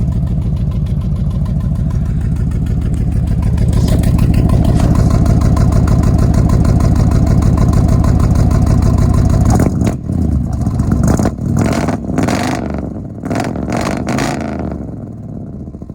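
Old truck engine running steadily with a slight skip, a loud, close rumble that sputters and cuts out unevenly toward the end, leaving irregular bursts and catches.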